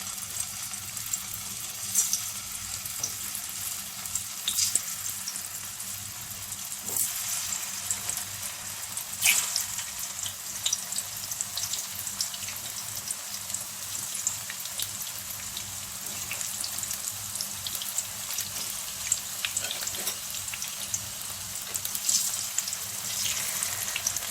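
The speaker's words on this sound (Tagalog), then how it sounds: "magpapainit lang po tayo ng kawali at lagyan ng mantika. At ilagay ang ating mga kamote." Sliced sweet potatoes frying in hot cooking oil in a pan, a steady, even sizzle with scattered pops and crackles running throughout, fairly close and alone with no talking.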